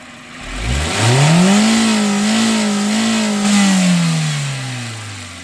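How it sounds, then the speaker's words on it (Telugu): A motorcycle engine revs up from low idle into a rising, sustained whine, holding high before slowly easing back down; loud and close, no talking. "నేను రేస్ ఇస్తా బండి"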